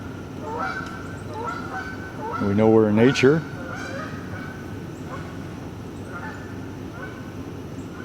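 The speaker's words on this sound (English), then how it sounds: "you hear the old ducks hawking in the background" Ducks or geese honk loudly in a short burst of several calls in the background of an outdoor plein air painting spot by a split rail fence, with someone talking before and after.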